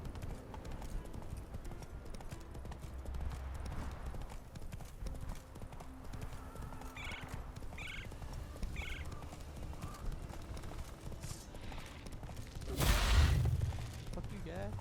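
Roach, a horse in The Witcher 3, gallops with a steady, rhythmic clip-clop of hooves across the ground, mixed with game ambience, a few brief sounds and a louder burst near the end, while someone talks over it.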